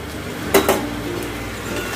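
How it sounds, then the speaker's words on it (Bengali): Prawns being stirred with potato and pointed gourd in a pan, a low steady sizzle with two sharp utensil clinks against the pan near the middle, close by. "চিংড়ি মাছগুলো ভালো করে মিশিয়ে নেব।"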